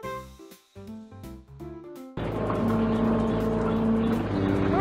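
After a couple of seconds of musical notes, a boat engine suddenly takes over as a loud, steady drone with a thin whine riding on top, holding constant to the end.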